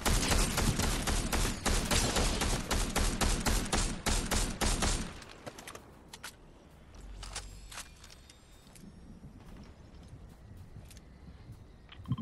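Dense bursts of rapid automatic gunfire from a Fortnite match, loud and continuous for about five seconds before giving way to quieter scattered shots and game sounds.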